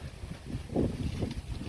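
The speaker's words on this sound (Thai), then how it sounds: "ลมมาแล้วครับ โอ้ไอเย็นนะครับ" A gust of wind sweeps in ahead of rain, a soft rushing and buffeting against the microphone that swells briefly in the middle of a short stretch.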